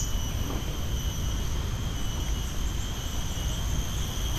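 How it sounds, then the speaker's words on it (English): Cicadas drone in a steady, high-pitched chorus that fills a Singapore garden, made up of several sustained tones that continue unbroken throughout, with no talking over them. "you've got the very present cicadas singing their song as I wander around"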